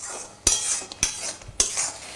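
Onion paste sizzles softly in a pan over medium flame while a spatula scrapes and knocks against the metal three times in a slow rhythm, close and alone.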